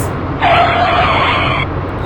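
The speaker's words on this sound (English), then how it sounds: "Out of control, Polly Cracker Sparks car careens into one of her own station's radio broadcasting" A car careens out of control with a loud tire skid that bursts in suddenly, holds a sustained screeching squeal for over a second, then cuts off and leaves a low engine rumble beneath.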